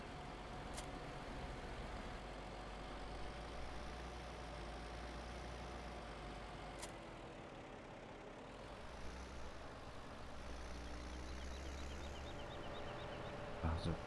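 A tractor engine idles in Farming Simulator 17, a low steady rumble that runs throughout, with faint clicks on top and voices talking quietly now and then.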